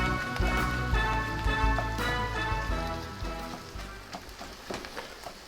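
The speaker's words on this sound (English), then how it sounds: "I'm going to add that corned beef in here and break it up" Corned beef crackles and sizzles in a pan as it is broken up and mixed in for Irish mac and cheese, with irregular scraping taps over a steady frying patter.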